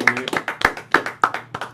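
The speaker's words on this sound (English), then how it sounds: "Round of applause." Sharp hand claps in a quick, uneven rhythm, several close together, sounding like a small group clapping rather than a large crowd, at a conga fitness class.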